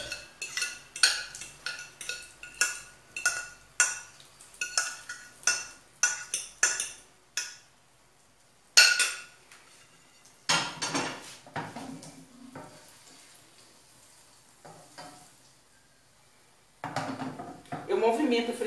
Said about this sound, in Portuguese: Eu movimento a frigideira assim, ó, para poder ela espalhar.